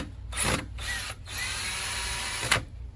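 Screws being loosened from a porch light fixture, a close mechanical whirring that comes in two or three short bursts separated by brief pauses.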